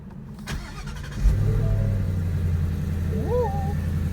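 A 2017 Ford Mustang GT V8 starts with a sharp bark and settles into a steady, rumbling idle, heard close up with a short voice near the end.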